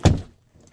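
A door shuts with a single close, solid thump that fades quickly into quiet.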